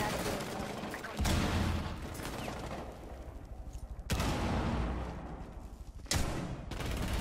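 Shotgun blasts in Rainbow Six Siege come as three loud, widely spaced booms, each followed by a decaying rumble, amid busy game noise with talk present.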